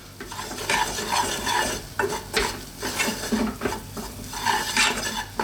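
Plain flour roux being stirred in a pan over low heat, a steady scraping and swishing of utensil against metal with a faint sizzle, near and continuous with no talking.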